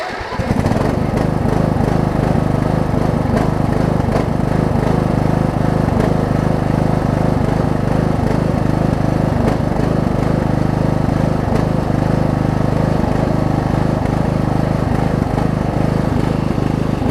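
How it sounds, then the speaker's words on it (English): A Craftsman riding lawn mower engine runs loud and close in a steady, rough drone for about seventeen seconds, pulsing slightly in its rhythm, with no talking over it. "Funny thing is, it was running slightly better earlier. It is pulsing a little bit now."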